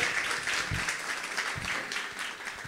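An event audience gives faint, even applause to welcome São Gonçalo's secretary of economic development, with continuous clapping throughout the clip.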